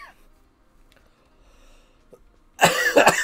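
A loud burst of harsh coughing, two or three rough explosive coughs in quick succession, breaks out near the end after a long quiet stretch with faint background sounds.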